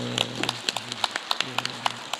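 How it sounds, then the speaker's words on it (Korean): Scattered claps from a church congregation welcoming newly appointed deaconesses, a loose uneven patter of hand claps heard close, mixed with a sustained tone and a voice. "여러분들 박수로 좀"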